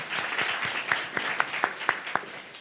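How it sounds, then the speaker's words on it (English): An audience at a talk on consent breaks into a round of applause, a steady wash of clapping with a few sharp, distinct claps standing out up close. "Another round of applause."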